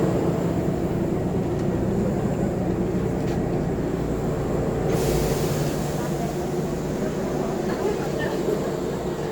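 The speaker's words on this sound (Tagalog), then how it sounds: "Okay, sakay na tayo ng tren." A Kintetsu rail train rolls from Nagoya toward Kyoto, heard from inside the carriage as a steady, loud rumble and hum of wheels and motors with faint clicks, unbroken throughout.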